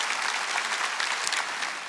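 Church congregation applause during an ordination Sunday worship service, a dense, steady roar of many clapping hands filling the hall, fairly loud and unbroken.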